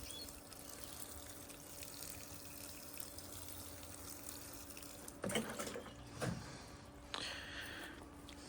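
Water runs steadily into a potted white Shahtoot mulberry tree, a soft faint trickle and pour throughout, with a few louder splashing bursts toward the end.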